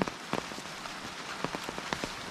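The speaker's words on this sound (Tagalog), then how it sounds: "Yan na, ang ulan." Rain falling on a mountain trail during a descent, a steady hiss of drops close by with scattered sharper raindrop taps standing out, no voices.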